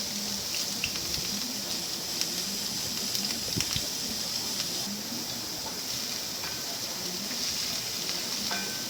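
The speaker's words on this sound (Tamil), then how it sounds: "அது சூடானதுக்கப்புறம் 3 காஞ்ச மிளகா அது கொஞ்சம் ஆயிலில் ஃப்ரை பண்ணிக்கோங்க" Dried red chillies and chopped onion frying in hot oil, a steady soft sizzle with a bright crackling hiss running continuously throughout, with scattered small pops and no voices.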